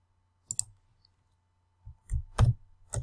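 Mouse clicks in a quiet room, a sharp double click near the start, then a cluster of clicks and taps a second later, close and crisp with no talk.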